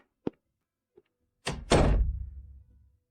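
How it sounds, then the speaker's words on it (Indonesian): Knocking on a door, a couple of faint single taps followed by a heavy thud and a louder slam-like impact that rings out briefly, with no voices. "Xu Xiao cuma salah ketuk pintu"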